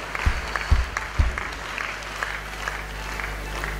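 A large concert-hall crowd claps for an award at a singer's 15-year stage anniversary show: a few heavy thumps open a thick, steady wash of applause that carries on evenly and fades slightly toward the end.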